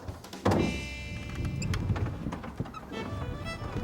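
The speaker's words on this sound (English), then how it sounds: "When I pull this book, the door will open." A spring-loaded hidden door on a hinge with a trigger mechanism, released by pulling a book, gives a sudden thunk, then a scraping, creaking swing and rattles as it opens, with no talking.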